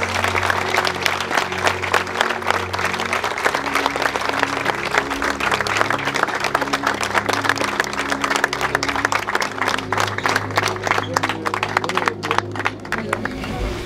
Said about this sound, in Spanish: Y les damos un aplauso a estos dos.